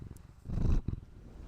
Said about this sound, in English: Ooh, purr into the mic.